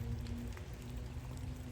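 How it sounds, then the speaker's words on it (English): Steady rain falls outdoors through a dense, even hiss with scattered drop patter, constant and moderately loud with no voices. "Because it's been raining all morning."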